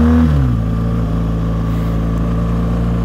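BMW R1200 GS Exclusive motorcycle (2017) accelerating on a lakeside road at Lake Thun, a loud, close engine note that sweeps through a quick gear change, then settles into a steady droning pull.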